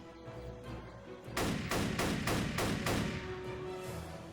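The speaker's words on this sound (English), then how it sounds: "feel free to use as much ammo from your M1 Garand as necessary" Video game M1 Garand rifle fire: about six quick, evenly spaced booming shots in a short burst, followed by faint game ambience.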